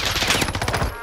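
Rapid gunfire crackles in Call of Duty: Warzone, a brief, close, loud burst of repeated shots.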